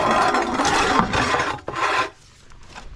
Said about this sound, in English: I'm going to slide a drain pan under to catch any coolant.